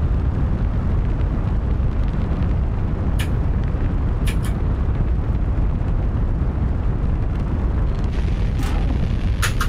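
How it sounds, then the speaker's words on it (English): Solid rocket boosters separating from a rocket in Kerbal Space Program 2, a loud continuous engine roar with brief sharp pops and hisses breaking through near the middle and end. "About to lose the solid rocket boosters now."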